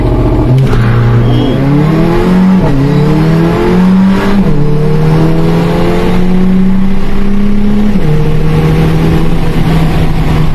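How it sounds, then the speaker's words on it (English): A loud Mercedes-AMG A45 engine revs up close under launch control, climbing in pitch in repeated surges before holding a steady, roaring drone. "Hear the engine revs build, then release your brake."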